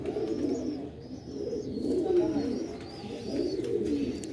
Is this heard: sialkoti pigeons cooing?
yes